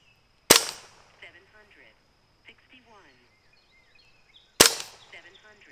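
A Hatsan Invader semi-auto air rifle fired twice with an empty magazine, two sharp loud cracks about four seconds apart, with quiet talk and faint mechanical sounds between them.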